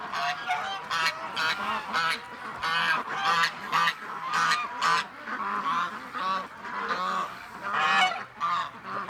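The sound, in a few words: ducks calling near camera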